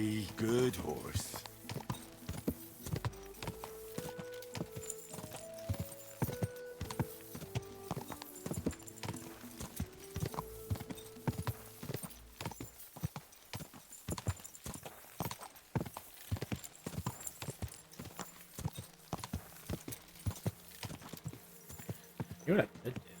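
Steady clip-clop of horse hooves at a walking pace in the video game Kingdom Come: Deliverance II, close and continuous, with a soft melodic tune playing underneath.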